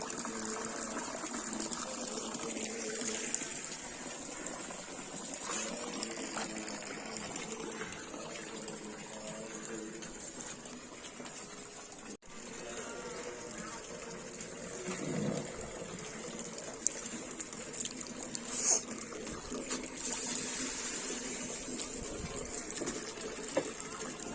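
Water gushes steadily from a small pipe that has overflowed, a continuous close rushing flow at a village site being readied for a religious festival, with no pauses across the whole stretch.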